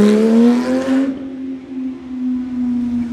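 A yellow Porsche GT3 with a naturally aspirated engine, spotted out on a summer street in Cape Town, holds a loud, steady, close-up drone whose pitch eases slightly downward after a brief broadband burst at the start.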